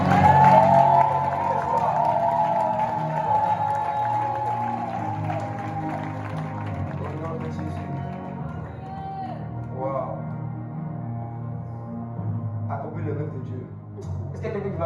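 A church congregation applauding and cheering for Jesus during worship, a loud sustained wave of clapping and shouts that slowly fades, with voices calling out over it.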